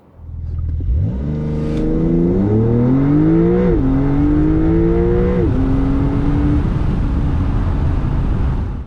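Engine of a 2025 Porsche 911 Carrera from inside the cabin, starting low then revving up through rising pitch sweeps with gear-like steps before settling into a steady loud drone; no talking.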